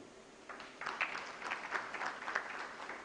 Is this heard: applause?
yes